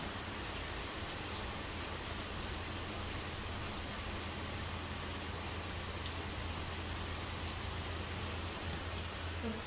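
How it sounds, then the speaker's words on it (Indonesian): Steady rain pours outside in Hong Kong, a dense, even hiss holding at a constant level throughout with a low hum beneath and no pauses. "di luar itu emang hujan tuh, hujan guys, di luar itu hujan."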